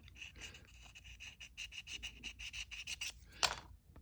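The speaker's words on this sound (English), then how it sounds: "We used our sanding stick to refine some of the little details." A sanding stick works over the fuselage of a Strombecker Convair Flagship model kit in quick, rhythmic, close strokes, a soft raspy scrubbing that repeats steadily and ends with one sharper scrape.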